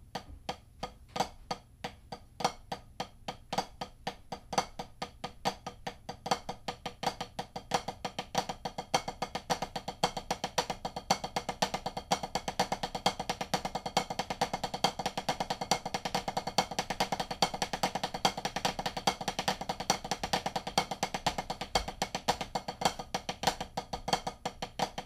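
A drum rudiment of four consecutive strokes per hand, played as a long, rapid, even stream of light ticking strokes that holds steady and fairly quiet throughout.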